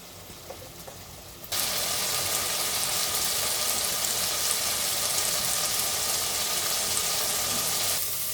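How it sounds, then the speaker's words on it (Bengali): A spice paste with coriander and cumin powder hits hot oil in a pan for a stuffed potato curry, bursting into a loud, steady hiss that sizzles on evenly for several seconds before easing, with no talk. "মশলাটা কষিয়ে নেব।"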